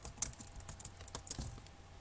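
Keys clatter on a computer keyboard in a quick, uneven burst of close clicks, with no voices.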